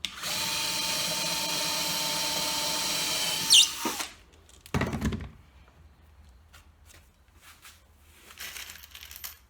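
A power drill drives 25mm screws into 16mm wood pieces while building a hook tying machine; a loud, steady whirring runs for about four seconds, then stops with a thunk, followed by a brief burst and quieter handling noises.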